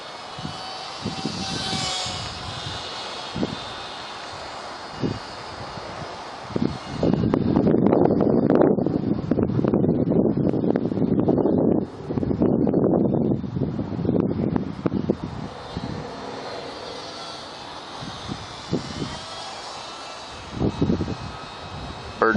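A WLToys Cessna-182 F949 three-channel RC plane flies outdoors, its small motor buzzing and surging as it passes, mixed with heavy wind rushing over the microphone.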